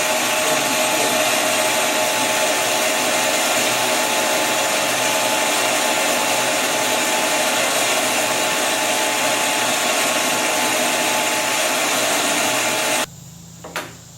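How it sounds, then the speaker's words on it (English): A lathe spins rifle cartridge brass cases while each one is filed, producing a steady, loud mechanical whir that runs continuously and cuts off near the end. "So what I have to do is take each and every single one, put it in my lathe, file."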